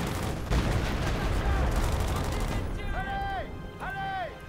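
Artillery fire in the video game Company of Heroes 2 rumbles as continuous heavy booms and blasts. Short whistling tones sound near the end.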